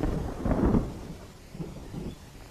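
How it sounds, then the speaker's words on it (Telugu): Low thunder rumbles through a film scene as rain approaches, a deep rolling swell followed by a fainter second rumble, fairly distant and heard alone. "అయ్య బాబా వర్షం వచ్చేలా ఉందండి"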